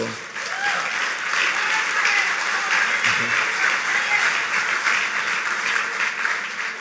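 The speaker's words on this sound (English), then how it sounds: "you clap, but that means more work for me and less relaxation." A crowd in a hall applauds at the 2019 Anthony N. Sabga Caribbean Awards for Excellence ceremony, building quickly into sustained, dense clapping that stays even for several seconds before easing slightly at the end.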